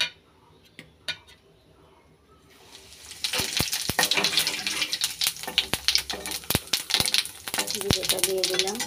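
Cumin seeds dropped into hot oil in a home kitchen, a quiet start with a few clicks and then a sudden loud crackling sizzle with sharp popping bursts continuing steadily to the end.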